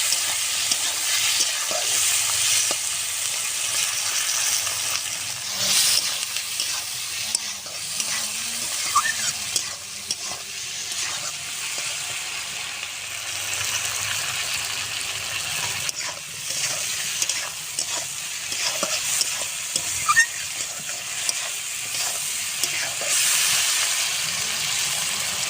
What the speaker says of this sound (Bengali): চিংড়ি মাছটা এবার দিয়ে দেব। একসাথে সুন্দর করে ভাজবো।